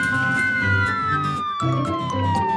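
A cartoon police car siren wails in a continuous, gliding tone that slowly falls in pitch, loud and close, with no talking.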